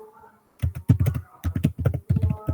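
Typing on a computer keyboard while filling out a mission order form in a document management system: a quiet pause, then rapid, close, clattering keystrokes in irregular bursts with short gaps, no talking.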